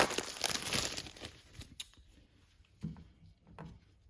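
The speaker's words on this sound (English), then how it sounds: "Unwrap your new one." Plastic wrapping crinkles and tears as a new aftermarket air filter for a Mow-N-Vac is unwrapped, a busy burst of close rustling followed by a few softer crackles and handling sounds.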